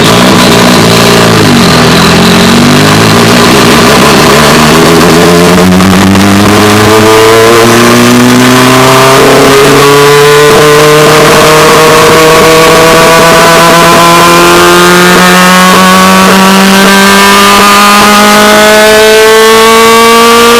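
A loud car engine revs and climbs steadily through rising exhaust tones, held close and continuous with no speech.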